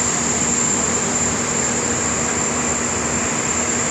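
A passenger train hauled by a locomotive runs with a continuous, even rumble and a steady high whine, heard from close by with no talk.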